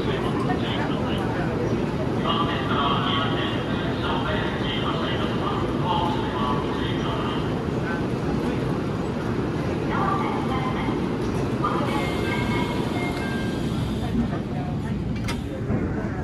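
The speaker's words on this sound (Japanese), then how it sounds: "お待たせしました。 列車を発車いたします。" A JR Central Iida Line train departing Toyohashi station rumbles steadily with a low, continuous drone, while a Japanese departure announcement plays over the noise throughout.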